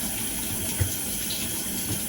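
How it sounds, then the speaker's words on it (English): Hot water running steadily from a tap while a makeup brush is rinsed under it, a continuous close rushing splash with small bubbling variations. "pour it under the tap and keep swirling it"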